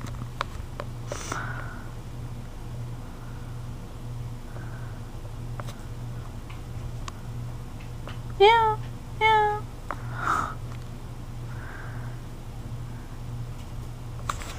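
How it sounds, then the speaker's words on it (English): A kitten meows twice in short, high, bending calls near the middle, with a third fainter cry after, over a steady low indoor hum and quiet room noise. "The dirty kitten."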